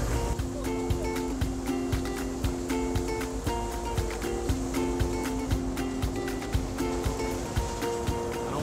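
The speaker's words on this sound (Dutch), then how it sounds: "Je hoort het schuurpapier over het spoor gaan." A rail grinding train drags sandpaper along tram tracks, making a steady, harsh scraping hiss with faint metallic ringing tones and regular light clicks throughout, fairly distant and even in loudness.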